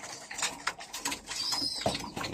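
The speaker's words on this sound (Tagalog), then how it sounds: "kulungan ng mga kalapati." Pigeons in a coop coo and call up close amid rustling and light fluttering, a few short overlapping notes over quiet background.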